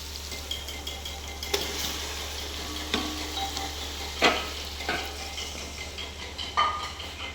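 Chicken fries in a pan with a continuous close sizzle, broken by occasional scrapes and clinks as it is stirred.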